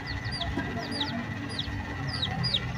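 Chickens cluck and peep in a steady, busy chatter close by, over a constant low background hum.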